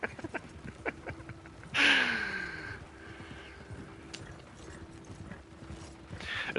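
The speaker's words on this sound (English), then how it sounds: "I got so used to riding around on that collector horse with the lantern on." Horse hooves clip-clop in a quick rhythm while riding in Red Dead Online, moderately near, with a sharp louder burst partway through and faint background noise, no talking.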